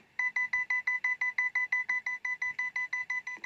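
An electronic alarm in the video game Livetopia beeps in a fast, even pulse, roughly six bursts per second, loud and continuous with no talking.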